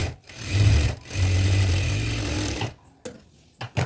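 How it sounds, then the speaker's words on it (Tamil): A sewing machine stitches a seam on a churidar pant in two steady motorized runs with a brief pause between them, then stops and goes quiet. "அதை ரைட் சைடு திருப்பி டவுனில் ஒரு ஸ்டிச் போடுவோம்"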